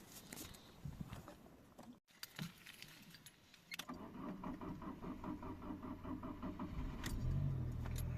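A Citroen Xantia is unlocked with jangling keys, then its engine cranks and catches, settling into a steady mid-pitched idle that grows louder and rumbles close by.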